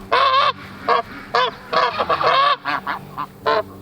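Geese honk repeatedly and loudly in short bursts, several calls overlapping, close by with no talking.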